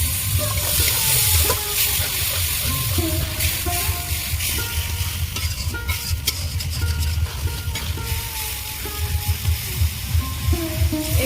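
Water is poured into a bubbling shrimp and young-jackfruit gravy in a pan. Loud, close splashing and sizzling mix with stirring scrapes and clatter for about eleven seconds.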